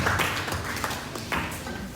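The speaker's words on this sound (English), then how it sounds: "This is a round of applause." A round of applause at a political campaign event in Nigeria: dense, steady clapping from a gathered audience, close and fairly loud, with no talking over it.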